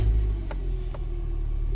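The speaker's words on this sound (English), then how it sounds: "We're going to go ahead and start her up" A 2006 Scion xB engine idles with a loud, steady low rumble after starting up, with a couple of brief clicks.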